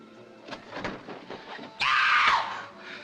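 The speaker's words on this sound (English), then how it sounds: "Somebody screamed" A woman's scream from an old 1948 film noir thriller rises suddenly over faint background noise and voices, a loud, sustained shriek lasting under a second.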